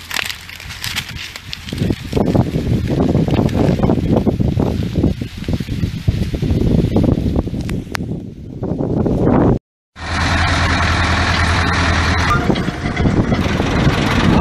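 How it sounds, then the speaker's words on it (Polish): Loud, continuous wind buffeting the microphone with rustling on a Polish farm field during the maize harvest, broken by a brief dropout, then steady roaring wind resumes. "Ale wiatr, ja pierniczę."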